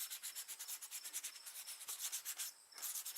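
Fine-grit sandpaper scuffs a 1996 SN95 Mustang spoiler ahead of repainting, a close, quiet rhythmic rasp of quick back-and-forth strokes with one short pause before resuming.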